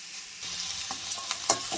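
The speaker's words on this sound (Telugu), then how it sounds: "ఉసిరికాయ వేసిన తర్వాత పోపులో బాగా కలిపేసి వెంటనే స్టవ్ ఆఫ్ చేసుకోవాలండి" Amla (Indian gooseberry) stirred into a sizzling spice tempering in a pan, a steady frying hiss broken by several scraping stirs, close and alone.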